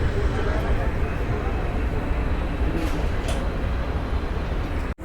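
Train 16787, the Tirunelveli–Shri Mata Vaishno Devi Katra express, runs on a parallel track near Delhi. It is heard from aboard another moving train as a loud, continuous rolling rumble, with a voice speaking over it.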